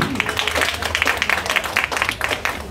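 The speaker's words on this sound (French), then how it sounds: "que je demande d'applaudir très fort" A crowd at a political gathering claps loudly and continuously, dense applause with scattered sharper claps and a faint voice underneath.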